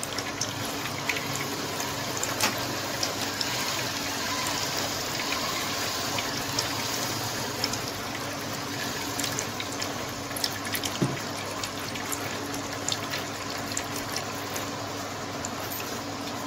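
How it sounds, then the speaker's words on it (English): Water flows steadily out of a straw, driven by air escaping from a balloon in a simple science experiment. It makes a continuous, fairly quiet gushing hiss that lasts throughout, with no talking. "the water is coming out of the straw. When the air will finish in the balloon, the water will stop coming out of the straw."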